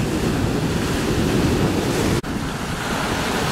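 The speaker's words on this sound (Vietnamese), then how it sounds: "có sóng liền các bạn" Rough sea with a storm coming slams into an iron boat heading out, making a loud, continuous roar of surf and wind buffeting close by. The roar is unbroken except for one momentary dropout.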